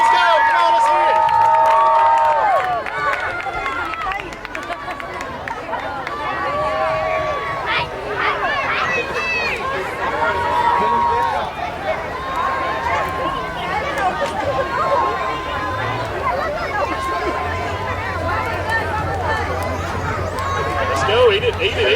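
Spectators cheer and shout at a Fourth of July watermelon eating contest in Clarksville, a loud outdoor crowd full of overlapping yells and whistles, with an announcer talking over the noise.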